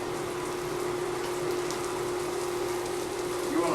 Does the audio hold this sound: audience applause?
no